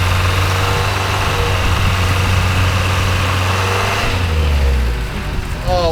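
A 4.5 liter car engine running steadily on a snowy mountain pass, a loud continuous low drone with a faint rise in pitch near the end, heard from close by without talk.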